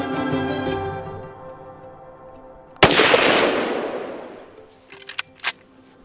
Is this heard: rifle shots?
yes